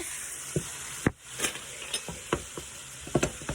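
Two pounds of small frozen shrimp hit a hot pan for Cajun shrimp pasta, giving a soft crackling sizzle with scattered sharp pops and clicks over a few seconds, without voices.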